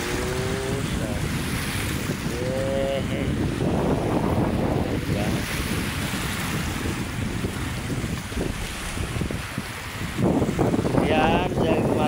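Sea waves wash and surge along the shore of Manila Bay, with a steady broadband roar and wind buffeting the microphone throughout, while someone talks over the water noise near the start and end.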